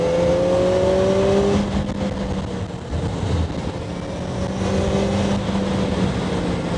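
A Kawasaki ZX-4R motorcycle rides along with a high-pitched engine whine rising as it accelerates, dropping briefly on a gear change, then climbing again, under heavy wind rush.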